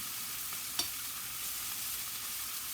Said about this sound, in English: So see, I'm sauteing these for about 20 minutes.